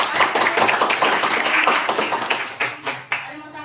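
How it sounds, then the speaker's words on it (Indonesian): A classroom of students clapping together, brisk rapid applause that thins out into a few scattered separate claps toward the end, with some voices mixed in. "Selesai, tepuk tangan dulu."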